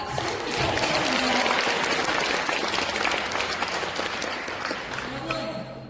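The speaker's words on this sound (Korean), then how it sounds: "성공 DNA를 깨워주신 김영진 리더님께 다시 한번 큰 박수 부탁드리겠습니다." A large audience at a LifeWave business event claps loudly and continuously for a leader, a thick wash of hands that stays strong before easing slightly toward the end.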